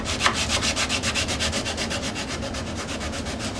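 Sandpaper of 120 grit rubs by hand over a carved wooden volute in quick, even back-and-forth strokes, a close, steady rhythmic scratching with no talk.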